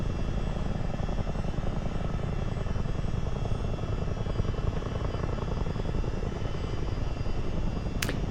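A simulated CH-47 Chinook twin-rotor military helicopter engine drones in Microsoft Flight Simulator, a dense, constant roar with steady rotor chop throughout and a brief sharp click near the end, no talk.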